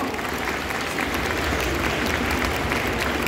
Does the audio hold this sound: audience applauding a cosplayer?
yes